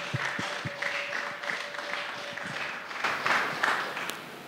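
A church congregation applauds to acclaim the Lord, a steady, moderately loud wash of many hands clapping together for several seconds with no voices standing out.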